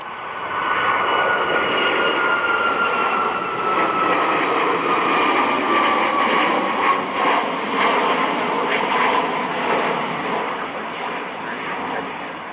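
An Icelandair Boeing 757 in National Geographic livery departing Cleveland runway 24 left on its way to Reykjavik, heard as a loud, sustained jet engine roar from some distance that holds steady throughout.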